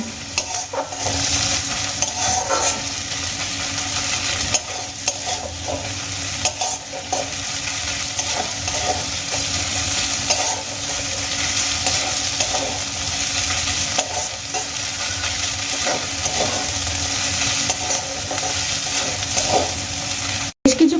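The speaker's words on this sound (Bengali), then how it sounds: "এবার আমি এখানে পেঁয়াজ গ্রেট করে নেওয়া আদা আর কাঁচা লঙ্কা খুব ভালো করে ভেজে নেব" Grated onion, ginger and green chilli frying in a pan for cauliflower paratha filling, a loud continuous close sizzle with repeated scraping stir strokes throughout, no voices.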